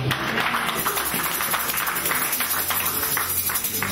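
A church congregation at a Geneva service applauds and cheers steadily, a dense, continuous wash of clapping and crowd noise that fills the space throughout.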